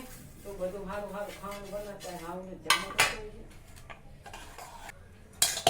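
Clinks and clatters of a steel plate set down into a metal dhokla steamer on a gas stove, a few sharp metallic knocks near the end, following a stretch where someone talks.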